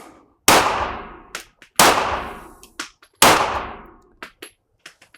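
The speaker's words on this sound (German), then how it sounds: "Einhändiges Schießen." Pistol fired one-handed during special-forces shooting training, three sharp loud shots spaced over a few seconds, each with a long ringing decay, followed by small metallic clicks and clinks.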